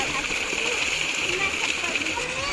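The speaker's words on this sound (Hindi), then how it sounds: "मूली निकली है ताज़ी ताज़ी हम इसको पानी में धो के लाएंगे" Freshly pulled radishes being washed in water outdoors, a continuous splashing and running-water wash with light sloshing, heard under people talking.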